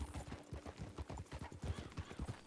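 Horses' hooves clip-clop steadily in the Red Dead Redemption 2 video game near Valentine, several animals trotting together in a dense, continuous rhythm with no talk over them.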